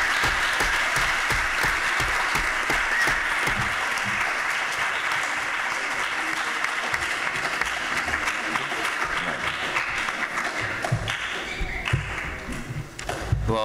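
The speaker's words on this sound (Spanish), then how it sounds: "Y un aplauso para el maestro de la villa." An audience applauds warmly for the town's schoolteacher after a classroom justice activity, dense continuous clapping sustained for several seconds with no talk over it.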